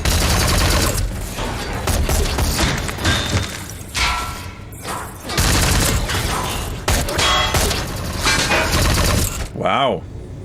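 Gunfire in a scene from The Expanse season 3 finale aboard the Behemoth, with loud bursts of shots and heavy thuds repeating over several seconds, mixed with shouting voices and a brief rising electronic tone near the end.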